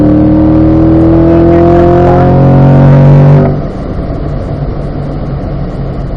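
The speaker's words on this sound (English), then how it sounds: "off the gas, on the gas, nice and smooth, and accelerate up the hill" A car accelerates up a hill at a performance driving school. The engine drones loud and close with a rising tone for about three seconds, then drops to a steady, lower rumble.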